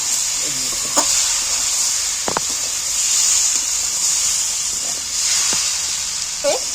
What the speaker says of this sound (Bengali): এবার আমি ভাজা শুকনো লঙ্কাগুলো ছড়িয়ে দিচ্ছি